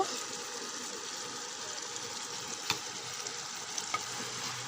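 Potato and pointed gourd curry cooks in a pan with a continuous sizzle. A few faint scrapes and taps of stirring sound through it.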